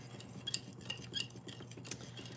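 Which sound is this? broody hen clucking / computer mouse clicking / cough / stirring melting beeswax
stirring melting beeswax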